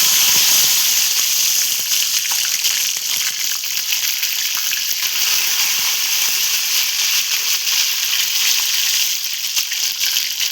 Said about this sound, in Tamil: இதில் கத்திரிக்காவை போட்டு நம்ம டீப் ஃப்ரை பண்ணி